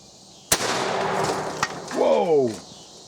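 A single sharp gunshot from a CCI Stinger .22 LR cartridge cracks loudly up close, followed by a brief ringing tail and then a voice reacting.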